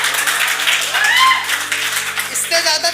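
A live audience at a Hindi poetry recital claps, bursts of close, loud applause mixed with voices.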